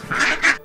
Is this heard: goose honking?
yes